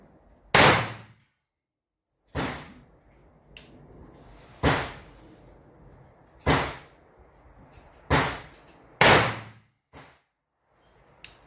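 A Colt New Model revolver fires seven sharp, loud shots at a target, spaced roughly a second or two apart, each crack followed by a short echoing decay and quiet gaps between.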